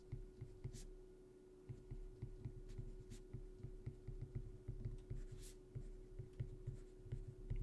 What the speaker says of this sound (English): is I'm going to write